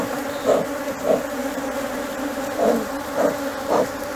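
Honey bees buzzing at a strong hive in an apiary, a continuous close drone with several louder swells as individual bees pass near, no talk.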